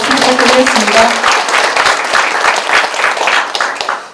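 Audience applause at a county mayor candidates' debate in Sabuk, Jeongseon, Gangwon Province: loud, dense clapping for about four seconds, with a voice speaking over the first second, then tapering slightly at the end.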